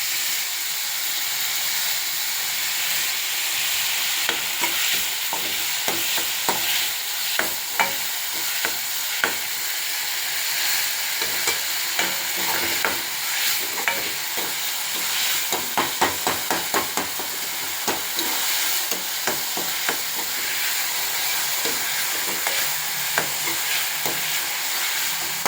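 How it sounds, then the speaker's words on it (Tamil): Thinly sliced onions with a little salt sizzle and sauté in a pan for a kadai paneer gravy, a continuous frying hiss broken by frequent scraping clicks and taps of a spoon stirring, close up with no talking. "வெங்காயம் நல்லா கொஞ்சம் வதங்கி"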